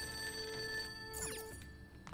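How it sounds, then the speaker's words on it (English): A telephone rings inside the Persona 5 Royal video game, its steady tonal bell repeating over quiet game music for about two seconds, with no voice present. "Let me go answer the phone."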